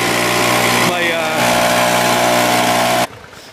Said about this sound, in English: my leaf blower, because it has more pressure